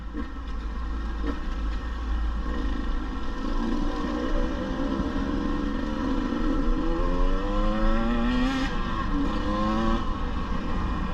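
A 2022 KTM 150 TPI two-stroke dirt bike engine runs continuously on a test ride, holding a steady loud drone with rising and falling pitch sweeps as it revs, close and alone without talk.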